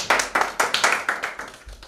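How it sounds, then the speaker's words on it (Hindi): Hands clap about ten times in a quick, steady rhythm, close and crisp, with no voices. "तालियां बजाने के लिए।"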